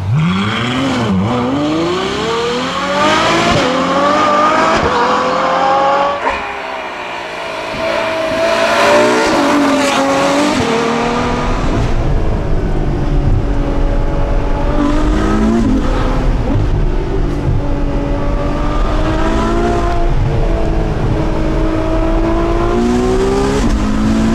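Ferrari F12 Berlinetta with its 740 hp V12, a loud close engine note with heavy intake roar that rises and falls through repeated revving and acceleration, continuous for the whole span.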